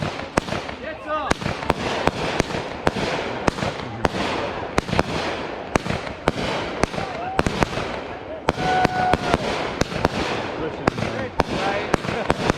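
Independence Day fireworks on July 4th, a run of sharp booms and crackling bursts spaced through the scene, loud and nearby, with people cheering and talking between the blasts.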